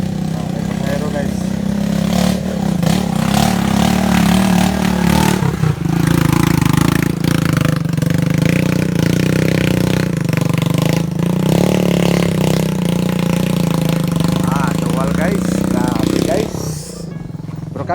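A motorcycle carrying a passenger runs steadily up close on a downhill trip from a mountain farm, its mid-pitched engine droning and revving loudly for the whole stretch while voices talk over it.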